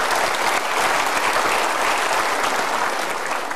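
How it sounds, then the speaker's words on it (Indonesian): A seminar audience at a Mario Teguh Golden Ways motivational talk applauds steadily, with dense, even clapping that holds at the same loudness throughout. "Kita berikan tepuk tangan."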